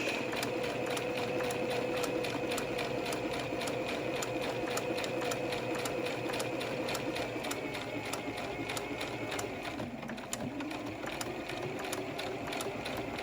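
A sewing machine runs steadily, stitching a quarter-inch seam on a cable-tie reinforced face mask, a fast even needle chatter up close with a brief slowdown partway through, then it carries on, with no talking over it.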